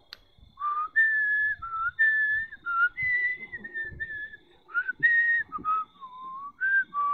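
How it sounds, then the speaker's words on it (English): A person whistles the Harry Potter theme melody alone, in clear, close phrases of sustained and gliding notes separated by short breaths. "In case you're wondering what I'm whistling at, it's the Harry Potter theme song."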